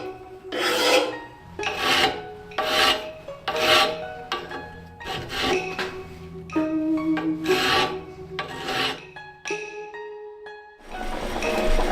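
Steel file rasping by hand along the spine of a katana blade, close and loud, in about eight rhythmic push strokes with ringing metallic overtones between them, slowing toward the end.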